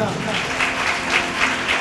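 An audience claps at a gathering, the applause dense and steady throughout, with a voice also present.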